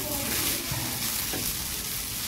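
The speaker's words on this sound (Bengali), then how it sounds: "এখন আমরা নাড়াচাড়া করি নামিয়ে নেবো ভাতগুলো।" Rice being stir-fried in a pan for a home rice recipe: a steady, close, even sizzle of frying with the scrape of a stirring utensil, alone and without talk.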